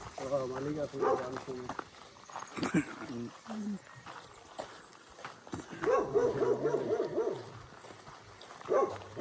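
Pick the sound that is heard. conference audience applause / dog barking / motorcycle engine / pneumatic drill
dog barking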